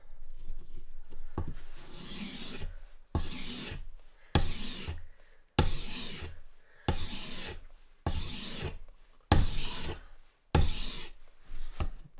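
Fleshing knife sharpened flat on a stone, ten steady rasping strokes in an even rhythm with brief pauses between, close and fairly loud, no voices.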